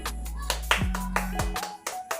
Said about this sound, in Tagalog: Bigyan natin ng palakpak ng ating mga sarili